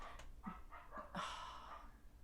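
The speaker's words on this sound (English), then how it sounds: "Some cows came up to our fence and she's going crazy barking at them." A farm dog barks at cows gathered by a fence, a few short, faint, distant yaps in quick succession, then one longer bark, all low against the room's background.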